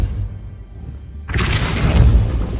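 A Depulso force spell fires in the video game Hogwarts Legacy, bursting in suddenly as a loud, broad whooshing blast with a booming low thud after a quiet moment, then holding a rushing rumble.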